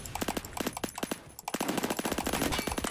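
Rapid rifle fire in the Roblox shooter Phantom Forces, loud, sharp shots fired in quick automatic bursts, a brief pause, then a longer, denser string of cracks.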